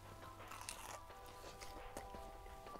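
Someone bites into crunchy, freshly deep-fried fish and chips with lemon and sriracha, giving a few quiet crisp crunches and chewing sounds close up, with no talking.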